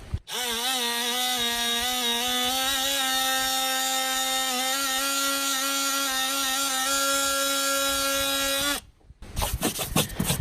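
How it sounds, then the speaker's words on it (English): Detail sander running steadily on autobody filler, a loud close electric whine holding one pitch for about nine seconds before cutting off, followed by brief scraping. "I'm going to use this detail sander since I don't really want to extend much beyond the work area here"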